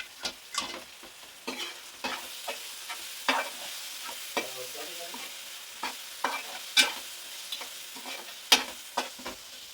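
Turmeric masala stirred in a pan for fish curry, a spoon scraping in irregular strokes with soft frying sizzle beneath, close and moderately loud with no talking.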